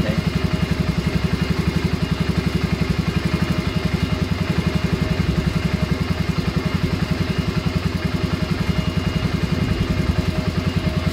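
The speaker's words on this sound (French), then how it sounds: "C'est censé être le régime normal de ralenti, 1400 tours minute à peu près." A Yamaha Bruin 350 ATV engine idles steadily at roughly 1400 rpm, a close, even low-pitched thrum with a fast regular pulse and no talk.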